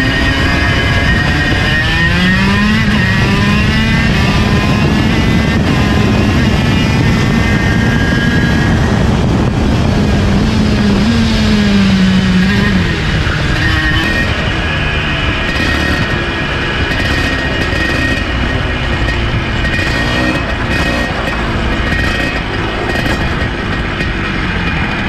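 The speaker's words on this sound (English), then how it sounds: "I'm actually going to let you listen to the raw audio of me coming down the straight" Onboard raw sound of a KZ1 shifter kart engine at a practice day, a loud, raspy whine climbing and shifting pitch as it pulls down the straight, continuous and close without voices.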